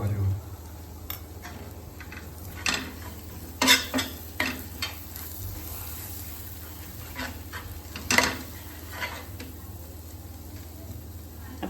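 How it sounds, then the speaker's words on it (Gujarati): Vada pav masala being mixed into butter in a pan, with a steady soft sizzle and scraping spatula strokes, and several louder clinks against the pan. A voice is faintly audible at points. "થોડું આ રીતે બટરમાં એને મિક્સ કરી લઈશું."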